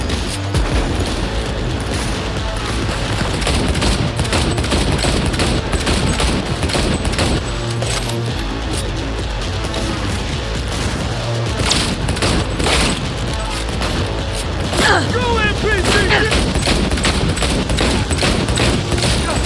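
Continuous video-game gunfire rattles through an action shooter, with dense bursts of automatic fire and heavy booms running loud and almost unbroken for the whole stretch.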